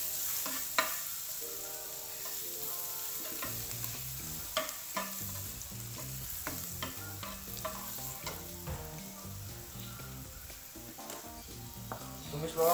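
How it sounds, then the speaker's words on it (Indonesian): Onions sizzle and fry in a pan for homemade spaghetti, a continuous loud hiss with repeated stirring and scraping, close and alone without talk. "Goreng dulu bawangnya guys."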